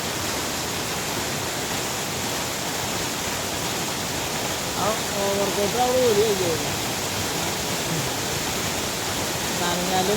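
A waterfall pours down with a loud, steady, broadband roar that never lets up; a voice talks briefly midway, partly drowned by the water.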